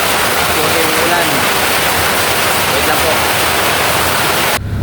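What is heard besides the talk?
heavy rain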